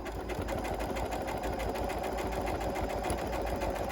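A Janome Continental M7 sewing machine stitching at steady speed, a continuous, close, even mechanical whir with a rapid needle rhythm, no talking over it.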